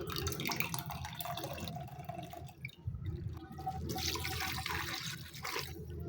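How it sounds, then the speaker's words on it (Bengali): Freshly made chhana for roshogolla is washed by hand in water, with steady sloshing, trickling and splashing that swells and fades over several seconds. "আমি দুই তিনবার জল পাল্টে পাল্টে সুন্দর করে ছানাটা ধুয়ে নিচ্ছি"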